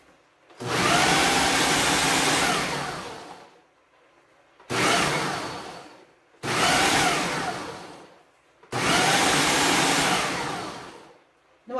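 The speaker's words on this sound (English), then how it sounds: "Just enough so that the food processor won't get stuck with the fruits inside of it." A food processor chops dried fruits for a Jamaican black rum cake, running in four loud pulses of two to three seconds each with short silent gaps between, and no voices.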